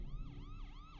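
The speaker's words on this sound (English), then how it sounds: "Have you ever heard the siren from a police car or ambulance change its pitch as it drives by?" An emergency vehicle siren, police car or ambulance, wails in repeated rising and falling sweeps over low road rumble, fairly faint and alone with no voices.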